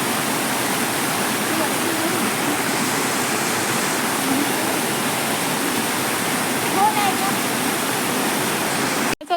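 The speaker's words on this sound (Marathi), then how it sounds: "तो रहस्यमय झरा तुम्ही आता बघू शकता" A village waterfall in the Konkan region roars steadily and loudly for the whole stretch, a dense unbroken rush of falling water that is close by and never lets up.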